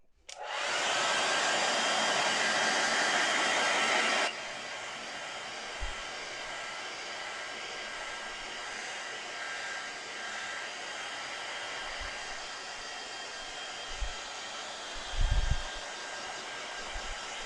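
A hair dryer blows steadily and loudly for about four seconds to dry a watercolour painting of a snowy blizzard scene, then cuts off, leaving quiet room tone with a few soft knocks.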